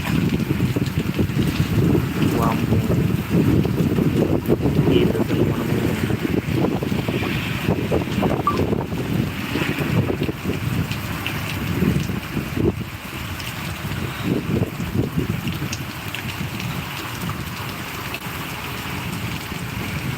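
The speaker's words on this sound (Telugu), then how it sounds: "అసలు మనం ఊహించలేనంత వాన" Heavy rain in Mulkanoor makes a loud, continuous roar that swells and eases slightly, close and unbroken, with no voices over it.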